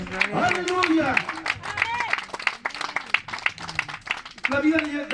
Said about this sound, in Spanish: Alguien da una ofrenda de palmas a Cristo Jesús